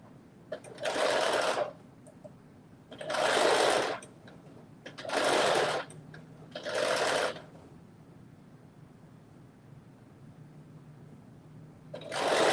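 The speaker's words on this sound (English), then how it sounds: "I'm just like creating this very narrow stitch" A sewing machine runs a very narrow stitch in four loud bursts of about a second each, separated by short pauses, with a fifth burst starting at the end.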